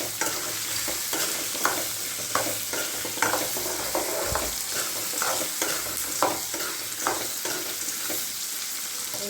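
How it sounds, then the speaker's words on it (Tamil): Chopped onions sauté in a hot pan with a steady frying sizzle, while a spoon stirs and scrapes through them in repeated scuffs and taps, close and moderately quiet, with no talking. "வெங்காயம் வதங்கிடுச்சு."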